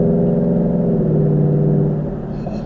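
A car engine in Sport Plus mode, likely a 2020 Mustang, gives a steady, loud, close rumbling drone with a low harmonic growl that eases slightly near the end, with no talking.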